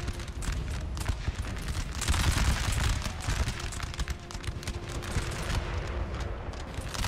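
Musket volley fire in the Napoleon Total War video game, a dense continuous crackle of many overlapping shots with rumbling low battle noise, fairly loud and unbroken.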